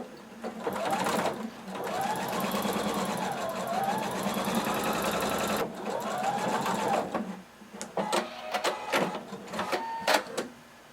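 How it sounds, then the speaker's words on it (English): A sewing machine stitches a long continuous seam on a fringe kimono, running in two sustained whirring bursts with a rising and falling motor pitch, then stopping into a few clicks and handling sounds, close and fairly quiet. "we're going to sew in one continuous seam using 5/8 of an inch seam allowance"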